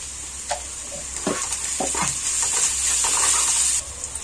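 Onions sizzling in a pan with ginger garlic paste and turmeric for a cabbage fry, a bright steady hiss broken by a few scraping stirs, close and loud, then easing near the end, no talking.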